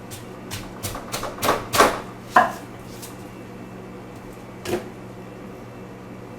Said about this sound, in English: We're going to start off by cutting up our onion.